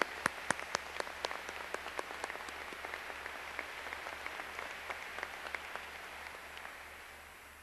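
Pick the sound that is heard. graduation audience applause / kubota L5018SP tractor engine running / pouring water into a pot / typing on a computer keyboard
graduation audience applause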